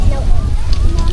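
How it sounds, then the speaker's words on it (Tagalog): Strong gusty wind buffets the microphone outdoors in Lobo, Batangas, a low rumbling roar that holds steady throughout with people talking over it. "Lakas na naman ng hangin."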